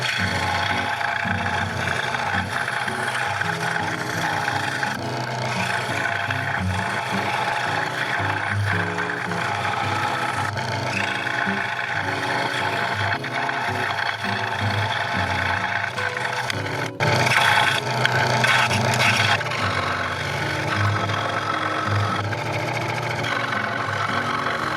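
A scroll saw cuts wooden pieces for an intarsia rose, giving a steady, close mechanical buzz that runs without a break for the whole stretch, with no talking.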